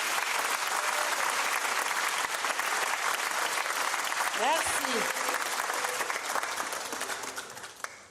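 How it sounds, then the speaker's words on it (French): An audience applauding a choir at a concert, dense sustained clapping from a large crowd that fades toward the end, with a brief spoken voice partway through. "Nous pouvons applaudir pour eux."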